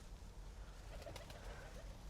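Pigeons coo softly in a low, throaty warble, faint and somewhat distant over a steady low background rumble.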